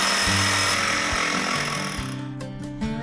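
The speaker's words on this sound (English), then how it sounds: "Using a reciprocal saw and tape measure, cut the rail approximately 1 inch short of the post." A reciprocating saw cuts through a wooden fence rail during a ponderosa fence install, a loud, steady buzzing cut running the full length up close with shifting pitch as the blade works.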